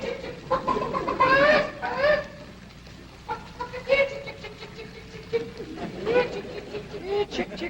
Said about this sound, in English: Jethro, go on out there and catch us a chicken.